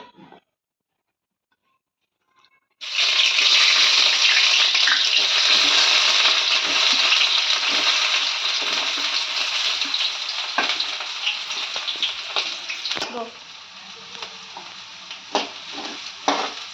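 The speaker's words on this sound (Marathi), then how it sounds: "कांदा छान तेलात परतून घ्यायचे. कांदा चांगला तेलात परतून घेतलाय." Two small onions sizzling loudly in hot oil in a pan, the strong frying hiss starting abruptly after a short silence, then easing slightly with scattered pops and utensil clinks near the end.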